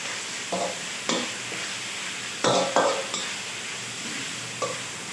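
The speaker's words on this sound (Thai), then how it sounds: "เราจะผัดคะน้าให้สุกก่อนครับ" Chinese kale is stir-fried in a wok with a continuous sizzle, broken by several sharp scraping strokes of the spatula against the metal at irregular intervals.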